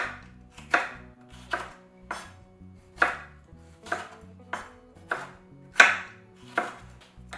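A knife chops a scotch bonnet pepper on a board in about a dozen crisp, evenly paced strikes, close and clear with no voices.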